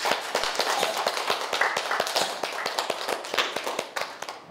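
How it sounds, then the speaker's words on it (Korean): Library audience clapping for children in an elementary reading debate contest, a fairly sparse round of individual claps with distinct sharp hits, moderately close and steady before thinning near the end. "우리 첫 번째 경기를 맞춰주는 친구들한테 박수 한번 주십시오"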